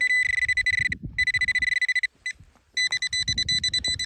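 Bright, high-pitched electronic tone from a Nokta Legend metal detector signalling a silver coin, pulsing in rapid bursts, cutting out briefly, then resuming, over faint low rustling.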